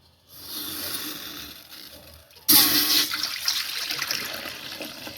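A soft hiss builds, then a sudden louder rush of fresh cow's milk pouring steadily into a pot, close by and continuing to the end.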